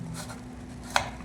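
A knife cuts through a potato and egg dish with one crisp, close tap on the board, against a soft background hum; no one speaks.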